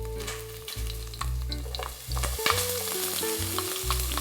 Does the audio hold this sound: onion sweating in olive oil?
yes